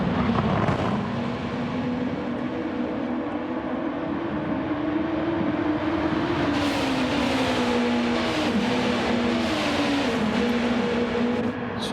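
Engines of race cars in a racing video game on the Grand Valley circuit drone steadily and loudly for the whole stretch, pitch rising and falling as they run, with no talking over them.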